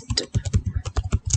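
Rapid keystrokes on a computer keyboard while entering text into a certificate document, a quick uneven run of close, crisp clicks with no voices.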